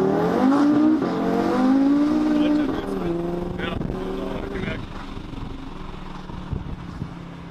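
An Audi RS3 sedan tuned to 670 hp accelerates hard through the gears, its engine note climbing loudly then dropping at a shift before pulling again and fading into rougher road noise.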